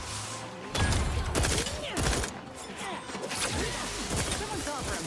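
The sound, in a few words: gunfire from the video game The Outer Worlds 2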